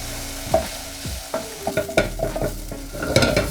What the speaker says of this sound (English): as well as frying the onions, you're boiling them, you're making them a lot softer